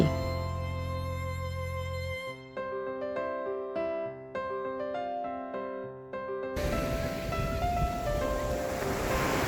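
Tonal music plays for several seconds, then gives way to a broad, steady wash of sea waves heard from a hotel balcony, loud and continuous until the end.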